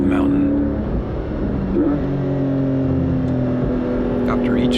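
Porsche 718 GTS 4.0 driving up Georgia 19 on a mountain road over Blood Mountain, its engine a steady, close, continuous drone with shifting pitch throughout.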